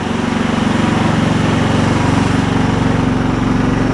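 A John Deere LX266 riding mower's engine runs steadily close by, a loud, even droning hum with a low pulsing rumble and no breaks.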